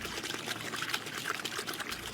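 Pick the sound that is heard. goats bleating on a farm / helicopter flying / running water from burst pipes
running water from burst pipes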